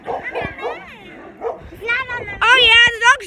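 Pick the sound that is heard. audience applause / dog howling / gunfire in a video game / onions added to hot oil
dog howling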